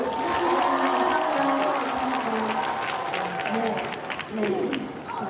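Audience applause and crowd noise at a K-pop concert, part of a public broadcast at a Pokémon World Festival; steady, loud clapping fills the whole stretch with voices mixed in underneath.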